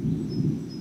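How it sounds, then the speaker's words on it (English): Low rumble of thunder rolling steadily through the whole moment, a broad deep roar with no clear individual crack, heard alone. "Ooh. Thunder."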